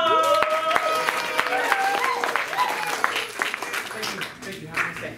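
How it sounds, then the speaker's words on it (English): Audience applause at an improv comedy anniversary show, a steady round of clapping mixed with cheering voices and a tonal sung or spoken line on top, fading slightly toward the end. "So this is Sing It After a Warm Round of Applause!"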